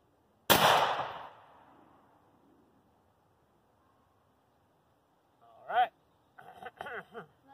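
A single loud, close blast from a 20 gauge youth shotgun fired at a target, with a sharp report and a ringing decay that fades over a second or two, followed by people talking.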